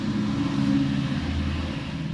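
Yamaha RX King two-stroke motorcycle engine running with a 3V3 exhaust on a stock, non-ported setup, a steady loud low rumble held close throughout with no talk.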